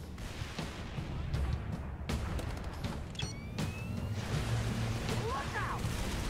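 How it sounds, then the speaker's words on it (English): Gunfire and explosive booms in the video game Halo 3: ODST, with scattered sharp shots and rumbling blasts over a constant low battle drone, distant and moderately loud. "Somebody setting up firecrackers or shooting."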